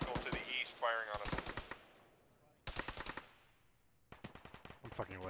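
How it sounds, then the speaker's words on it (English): Automatic gunfire from an SPG technical in a combat video game, with loud bursts of rapid shots separated by short pauses and a sharp whooshing blast near the start. "I believe we've got a SPG technical to the east firing on us"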